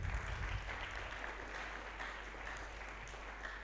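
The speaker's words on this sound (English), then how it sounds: "clap for them." Audience applause for partners at a CorpsAfrica Kenya cohort close-of-service ceremony, a faint, distant, steady patter of many hands over a low constant hum.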